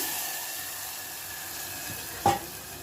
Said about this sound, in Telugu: ఇప్పుడు ఈ సొరకాయ కూరని తాలింపులో వేస్తున్నాము